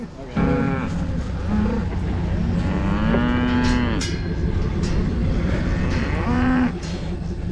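Cows mooing on a dry farm where they are fed hay and supplemental feed, several long, loud lowing calls close by over a steady outdoor background.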